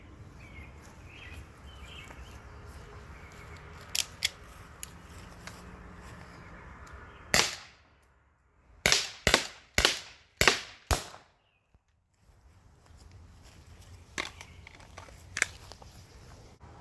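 Byrna launcher firing chemical rounds at a target, a few sharp pops followed by a quick string of four loud, closely spaced shots with short echoes, against quiet outdoor background noise.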